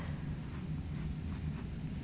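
Pencil sketching on paper, a soft continuous scratchy rustle of graphite strokes with faint periodic swishes, close and quiet in an intimate setting, no talking.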